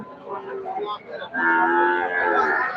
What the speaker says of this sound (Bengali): এই যে একটা গরু ভিডিও ওঠার জন্য কেমন করছে দেখেন